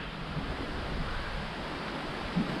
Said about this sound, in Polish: po jednej stronie strumień i po drugiej stronie płynie strumień, także jest w fajnym takim dźwięku się idzie